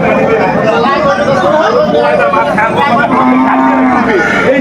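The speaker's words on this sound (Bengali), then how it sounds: "শাহিওয়াল গাভী বাছুর আমরা দেখছিলাম এখানে" A Sahiwal cow with her calf moos loudly and repeatedly at the Aftabganj cattle market, with close, drawn-out calls rising over steady crowd chatter and nearby voices.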